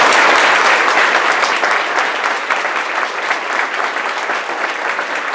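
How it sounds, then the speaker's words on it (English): An audience claps in sustained, dense applause to welcome a speaker at an evening talk, loud and continuous with no voices over it. "So please give a round of applause for Chris Hedges."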